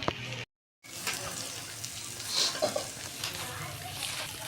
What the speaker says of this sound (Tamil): இந்த சன்னாவே உருளைக்கிழங்கையும் அதையும் இதில் போட்டு மிக்ஸ் பண்ணிக்கலாம்